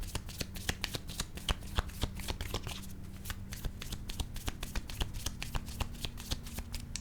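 Playing cards are shuffled quickly by hand, a steady run of crisp riffling snaps, close and fairly quiet, with a faint low hum beneath.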